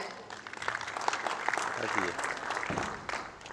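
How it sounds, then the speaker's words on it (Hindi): Crowd applause at a radio app launch event, with a dense patter of clapping that holds steady for a few seconds, mixed with some background voices. "मैं आप सभी से रिक्वेस्ट करूंगी कि जोरदार तालियां हो जाएं"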